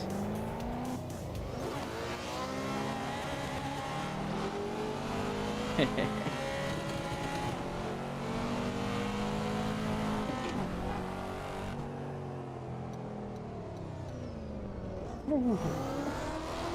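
Cars in traffic in a driving simulator game, with engines revving and shifting pitch as vehicles pass and accelerate, a few brief tire squeals, and a person talking over them throughout.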